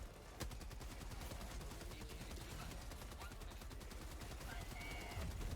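Rapid, sustained gunfire in the video game Helldivers 2, a dense stream of shots running steadily through the whole stretch at a loud, close level.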